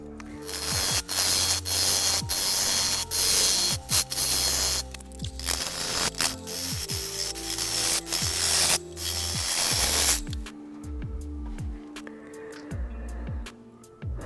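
A lathe tool cuts mimosa wood during woodturning, producing a continuous scraping hiss with repeated rhythmic ticks from the spinning blank, loud and close, then quieter after the cut pauses near the end.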